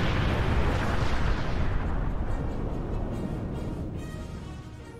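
Weapons fire and explosions in the Star Trek Online video game, a loud sustained roar of blasts that fades gradually over several seconds.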